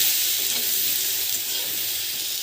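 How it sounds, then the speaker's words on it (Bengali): A pan sizzles loudly and evenly as something fries with salt and turmeric for a fruit chutney, a constant hiss without pauses. "হালকা একটু ভেজে নেব।"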